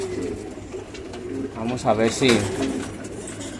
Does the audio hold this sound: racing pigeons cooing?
yes